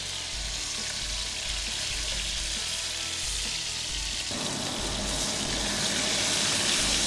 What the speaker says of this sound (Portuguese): Selar então é dourar ele de todos os lados, para caramelizar a proteína e a gente manter a umidade dentro dele